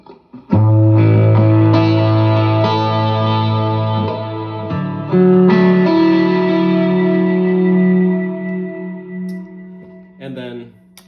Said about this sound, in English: if you needed like an overdrive sound, you could move on to this one.